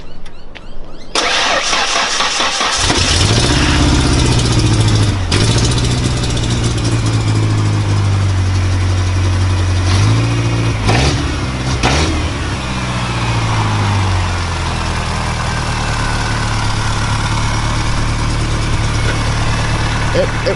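A 1992 Ford Ranger cranks, fires up and settles into a loud, rough idle with a rattle from a loose clothes-hanger fix, heard close. Several revs break up the steady drone, and people talk over it at times.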